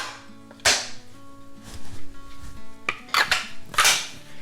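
Metallic clicks, scrapes and clacks of a shotgun being put back together after cleaning and oiling, a handful of sharp close-up knocks spaced irregularly, with no talking.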